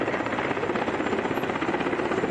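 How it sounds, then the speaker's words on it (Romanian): A utility helicopter from Iași, fitted with a special fire-suppression device, makes a steady rhythmic rotor thump and engine roar at moderate distance, with no speech. "a fost solicitată și intervenția unui elicopter utilitar din Iași, dotat cu un dispozitiv special pentru stingerea flăcărilor"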